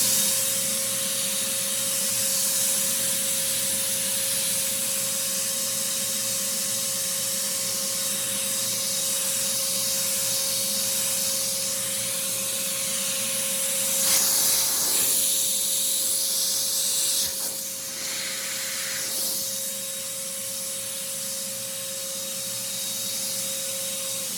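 A modified Wagner paint spray gun spraying thin, well-diluted paint, a steady close hiss with a constant motor whine throughout, shifting slightly as the flow changes partway through.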